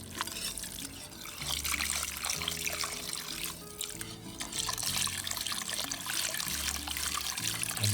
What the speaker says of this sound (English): Slowly pour in 1 cup at a time